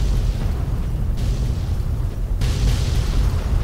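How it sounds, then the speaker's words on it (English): A large explosion in the video game Fallout 3 gives a loud, sustained rumbling roar with a deep booming low end, continuing without speech. "Look at that fucking explosion!"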